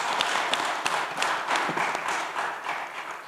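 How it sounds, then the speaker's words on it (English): A church annual meeting audience gives a round of applause for three vestry members, a steady wash of many hands clapping at moderate distance, fairly even throughout with no talking. "Let's give a round of applause to all 3 vestry members."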